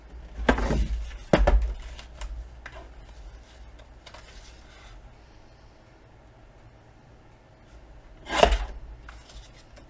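A paper trimmer slices a strip off a piece of cardstock, making a few short, sharp scraping swipes. Two come in quick succession near the start and another follows after a quiet pause, close and dry.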